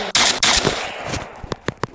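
Gunfire in the video game Kuboom: two loud close bursts of shots open the clip, followed by a few fainter scattered shots and clicks.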